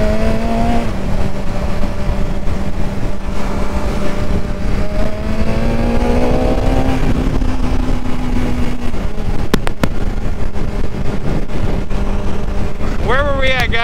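A BMW S1000XR motorcycle engine held at high RPM, a loud steady drone whose pitch climbs and settles, with rushing wind noise throughout and a brief sharp burst near the end.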